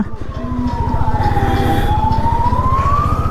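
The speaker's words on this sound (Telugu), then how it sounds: "ఇక్కడ అంబులెన్స్ పోతుంది కదా" An ambulance siren wails in one slow, sweeping rise and fall over the loud, steady rumble of an engine and traffic nearby, on a road in Kerala.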